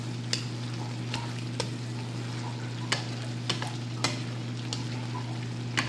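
Pork menudo with tomato paste cooking in a pan, a steady low sizzle and bubbling broken by sharp scrapes and clacks of a spoon being stirred against the pan, with no one talking.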